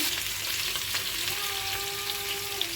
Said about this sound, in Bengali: আলুগুলো সুন্দর করে ভেজে নেব